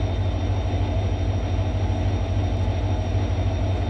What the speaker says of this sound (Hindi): ट्रेन बस थोड़ा सा आगे कर रहे हैं ताकि भाई बेटर लगे